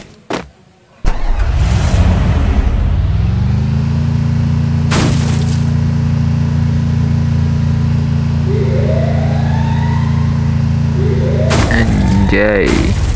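A car in the video game Free Fire on the Alpine map starts up, then holds a loud, steady engine drone, with a few sharp bangs and rising whines layered over it near the end.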